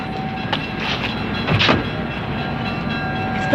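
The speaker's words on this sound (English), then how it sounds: "Paul, I think I hear it. It must be our train." A train pulls into a station, a continuous rumbling and rattling approach with brief metallic squeals and clanks midway, fairly close and steady, with no talking.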